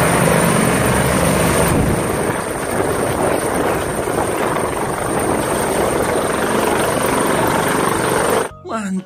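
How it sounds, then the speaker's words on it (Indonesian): A toy helicopter drones steadily with a loud rotor whir and engine hum throughout, continuing unchanged until it cuts off near the end. "Wah, ada helikopter."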